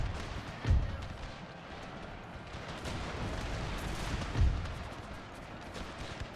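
Massed musket volleys from infantry units in the Pike and Shot video game, with two heavy, booming discharges standing out over a continuous crackle of scattered shots and battle noise.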